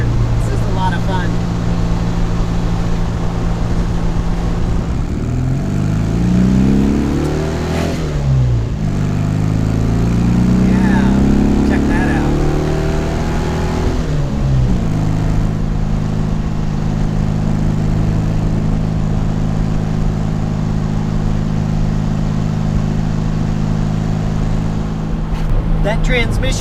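Porsche 356C engine on a shakedown drive, droning steadily with rising and falling revs as the car accelerates and shifts, heard from inside the cabin throughout.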